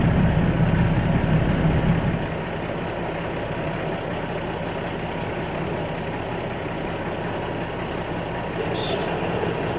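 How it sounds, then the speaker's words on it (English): A truck with a trailer maneuvers while reversing, its engine idling steadily as a low continuous rumble throughout, slightly louder in the first two seconds, with a brief hiss near the end. "Bring my truck pretty much in line where the trailer was."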